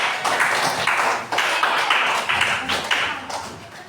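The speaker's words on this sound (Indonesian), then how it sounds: "Tepuk tangan untuk semuanya." A high school math class clapping hands together in a classroom, bursts of dense applause in several short waves, fairly close and loud.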